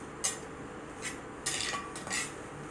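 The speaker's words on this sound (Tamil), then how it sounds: "நல்லா கிண்டி விட்டுறேன்" A utensil scraping and clinking in a pan while food is stirred, a few quiet separate scrapes and taps spread over a couple of seconds, close and soft.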